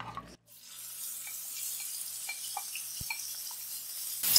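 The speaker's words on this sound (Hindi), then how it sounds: "अब इसके अंदर प्रॉन डालेंगे।" Prawns fry in a quarter cup of oil in a pan, giving a soft, steady sizzle with light crackles that begins after a brief clatter and continues without voices.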